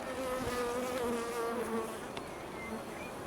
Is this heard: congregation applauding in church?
no